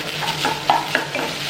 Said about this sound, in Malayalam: പിന്നെ നൂഡിൽസ് ഒന്ന് ഫ്രൈ ആയിട്ടും കിട്ടുള്ളൂ